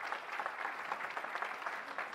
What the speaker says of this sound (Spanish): quiero pedirles un fuerte aplauso a quienes van a ser los protagonistas de este encuentro